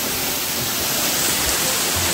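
A jungle waterfall roars steadily nearby, a dense, constant rush of falling water filling the whole scene with no pauses.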